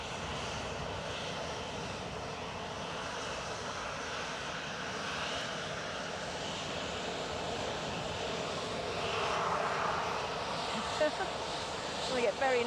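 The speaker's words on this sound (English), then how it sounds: "Inbound is an EasyJet from Belfast." An EasyJet airliner inbound from Belfast arrives at Edinburgh airport, its engine roar building steadily and growing louder toward the end over a continuous broadband rumble, with no clear talk over it.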